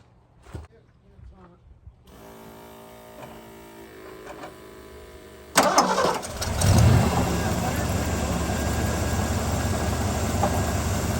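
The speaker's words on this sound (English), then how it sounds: "we're just firing this thing up and letting it run for a bit, give her a few revs, settle the oil in" An engine cranks and catches after a quiet stretch with a faint whirring and clicks, then bursts into a loud, steady idle with a brief rev, running on close by with voices nearby.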